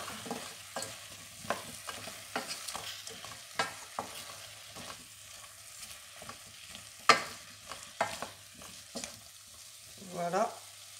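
Soup vegetables being stirred in a pot, with repeated close spoon scrapes and soft frying crackle in an uneven rhythm, plus one sharper clack partway through.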